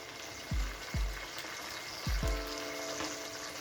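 Tomato masala for mutton karahi, a tomato pulp with salt and black pepper, sizzles steadily in the pan, with a few soft stirring thumps and scrapes over the constant frying hiss.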